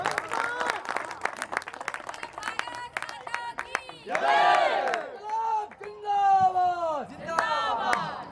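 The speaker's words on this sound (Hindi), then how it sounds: "जोरदार ताली बजाइए एक बार और।" Crowd at a Hindi kavi sammelan poetry recital bursts into loud clapping and cheering, with shouted slogans rising over the applause and a voice calling out amid the noise.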